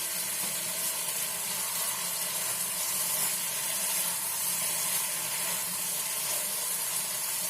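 Spinach and mixed vegetables simmering under a lid in the water they have released, a steady soft hiss and faint bubbling throughout, even and unbroken, with no voices.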